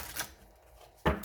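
Tarot cards are shuffled in hand, two quick riffling bursts of rustling card stock close by in a quiet room, the second sharper and louder.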